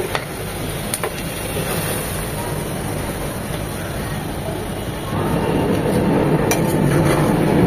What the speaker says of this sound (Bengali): চিকেনগুলো যে ভেজে নিয়েছি সেগুলো দিয়ে দিচ্ছি।